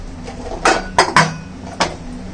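A copper pot is set down and handled during household cleaning, giving a few sharp metallic clanks and clinks spaced over about two seconds, close and fairly loud, with no talking.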